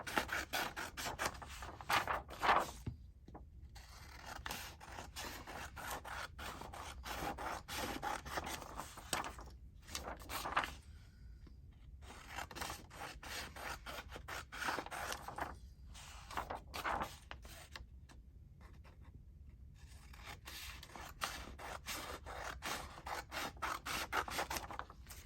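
Scissors cutting off the paper border of a piece of ephemera at a craft table, a steady, close, dry rasping snip that runs continuously with a few brief pauses and no talk.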